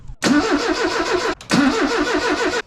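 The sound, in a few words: 1979 MGB engine cranking but failing to start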